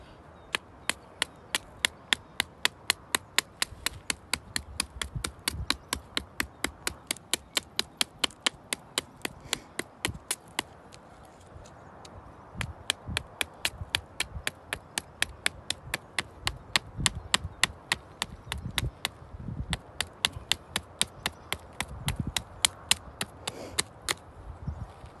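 Nessmuk knife chopping wood outdoors during field testing: a long run of sharp, rhythmic, close-up blade strikes on wood, fast and regular, with a short pause near the middle, no talking.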